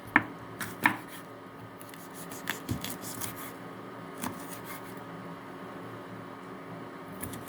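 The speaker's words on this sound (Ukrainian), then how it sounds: "дрібненько, спочатку полосочками, а потім квадратиками наріжемо і перчик." A knife slices green bell pepper into strips and then small cubes on a board, with sparse, irregular chopping taps over a soft background hiss.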